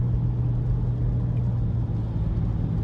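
A 2023 Nissan Rogue SV cruises on the road in eco mode, giving a steady low cabin rumble and road hum without a break.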